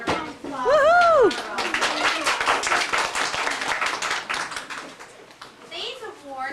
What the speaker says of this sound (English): We can give those children a round of applause.